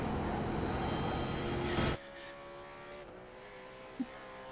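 A Supercars race car engine drones steadily at a distance around the Bathurst track, a sustained roar that suddenly drops to a quieter, lower hum, with a faint brief knock near the end.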